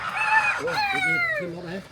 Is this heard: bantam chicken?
yes